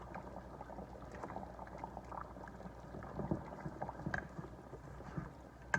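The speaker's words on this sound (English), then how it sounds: "They're boiling, so now I'm going to turn them down." Low bubbling and simmering of oxtails in liquid in a pot, a steady soft churn with occasional small pops, fairly quiet and close.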